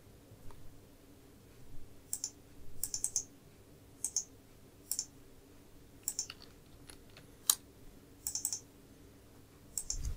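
Computer keyboard typing while writing Java code, heard as scattered bursts of light clicking keystrokes, close and fairly quiet, with pauses between bursts.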